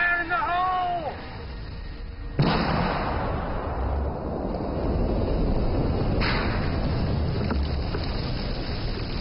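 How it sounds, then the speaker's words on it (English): Recovered unexploded bombs are blown up with modern explosives near the Thai-Laos border, a sudden heavy blast that booms out and rolls on in a long rumbling decay, with a second thud following moments later; a voice is heard beforehand. "they're blown up with modern day explosives"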